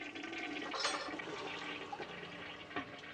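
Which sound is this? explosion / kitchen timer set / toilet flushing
toilet flushing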